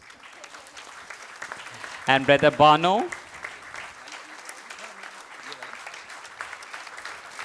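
Audience applause for speakers at a spiritual retreat event, a soft spattering of many hands heard faintly throughout, with a voice briefly speaking over it in the middle.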